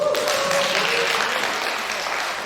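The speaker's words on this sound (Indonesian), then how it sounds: "Tepuk tangan di Jetis." Applause from attendees at a teachers' workshop in an indoor hall, a steady dense patter of clapping that fades slightly toward the end.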